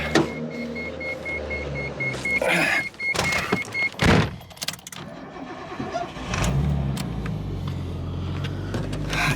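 Nissan 240SX, a field-find car, starting up and pulling away, with a steady engine rumble, a whirring electric motor early on and sharp clunks, loud and close throughout.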